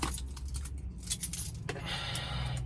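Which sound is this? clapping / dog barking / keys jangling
keys jangling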